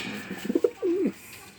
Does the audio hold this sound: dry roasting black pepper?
no